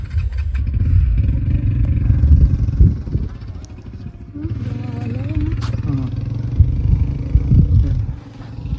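Motorcycle engines rumble past close by on a mountain road in Miagao, Iloilo, with revving and clatter, and people talking over the traffic.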